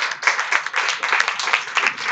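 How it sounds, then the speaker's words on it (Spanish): A roomful of people at a panel on violence against women gives brisk, close applause, dense and even for a couple of seconds. "Les damos un fuerte aplauso."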